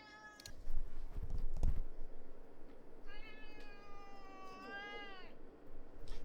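A pet cat meows clearly and close by indoors, one longer drawn-out meow after a shorter earlier cry, with faint room noise and handling sounds around it.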